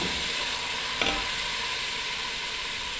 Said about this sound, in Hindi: अब हम इसमें मछली के सर ऐड करेंगे।